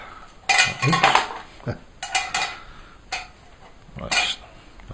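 A metal pot stand set onto the burner of a homemade woodgas stove gives several bright metallic clanks and rattles in quick irregular bursts, close and fairly loud.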